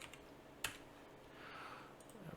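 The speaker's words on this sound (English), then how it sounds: "I'm going to hit the keyboard thing and hit tab." Computer keyboard keys are tapped during Unreal Engine 5 work: one sharp, close click stands out, and fainter keystrokes sit against a quiet room background.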